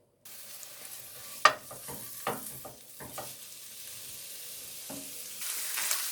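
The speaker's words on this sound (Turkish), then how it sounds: "Kıymam kavrulmaya başladı gördüğünüz gibi. Karıştırmaya devam ediyoruz." Four hundred grams of ground meat fries in a pan for Turkish karnıyarık filling, a soft steady sizzle broken by sharp scrapes and clacks as a utensil stirs it, one loud knock early on, close and with no voices.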